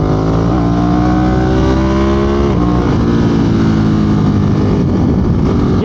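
A 2022 Ducati Monster motorcycle engine drones loud and close while riding, its harmonic pitch rising and falling through gear changes, with a steady wind rush underneath and no talk.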